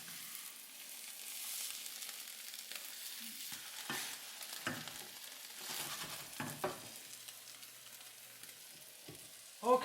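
Shrimp, eggs and Chinese chives fry in a pan with a steady close sizzle, broken by occasional scrapes and stirring knocks, no talking.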